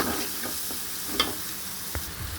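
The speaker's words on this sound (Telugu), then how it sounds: "చూసారు కదా మనకి ఫ్రై అయిపోయింది" Ginger garlic paste and tomato fry for a fish curry, a steady close sizzle with a few soft stirring scrapes and pops over it.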